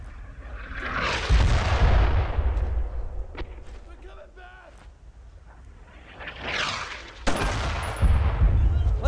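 Sustained bursts of gunfire in the World War II shooter Brothers in Arms: Road to Hill 30, loud, dense volleys that swell, ease off midway, then return hard near the end, with shouted voices mixed in.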